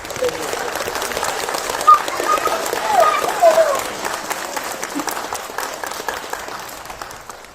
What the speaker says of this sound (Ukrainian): давайте подякуємо оплесками Збройним силам